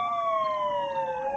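An ambulance siren wails at a bombing scene in central Kabul, a loud, close, steadily falling electronic tone heard alone.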